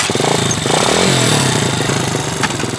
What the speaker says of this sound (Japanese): レーシングエンジンの力を見よう。